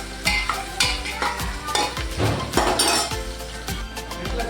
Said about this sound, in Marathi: कांदा आपल्याला ब्राऊन होईपर्यंत परतून घ्यायचा आहे